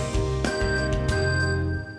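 A short melodic phrase of two bright opening notes of a song played over a steady backing, brief and clear.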